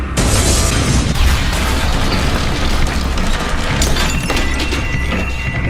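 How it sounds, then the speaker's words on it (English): A loud, continuous roar of an explosion with deep rumbling and crackling debris, sustained throughout without letting up. "We hear another explosion."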